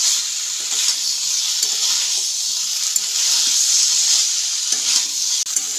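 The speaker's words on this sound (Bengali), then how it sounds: "ভেজে রাখা পটলগুলো দিয়ে দিলাম আবার একটু ভালোভাবে কষিয়ে নেব" Fried pointed gourd being sautéed and stirred with spices in a pan, a steady close sizzle with scraping stir strokes throughout and occasional sharper clicks of the spatula.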